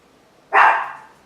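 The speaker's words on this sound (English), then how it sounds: "Don't bark, please." A single short bark from a puppy indoors, close and fairly loud, rising abruptly from quiet and tailing off, with a faint start of another sound at the end.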